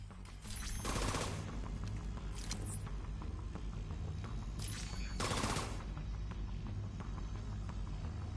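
A pair of bursts of grenade explosions goes off in The Division 2 video game, each a short, bright blast over continuous rattling gunfire that holds at moderate loudness throughout.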